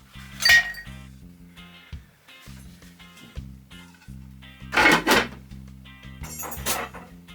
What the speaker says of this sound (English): Now we're going to want to add ice.